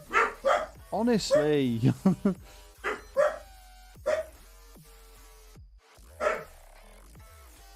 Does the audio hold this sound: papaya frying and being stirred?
no